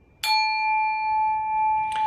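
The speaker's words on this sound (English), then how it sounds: "his fingers betrayed him and he rang the bell again" A bell rings with a bright, sharp strike followed by a long, steady ringing tone. It is struck again just before the end, clear and loud with no voices.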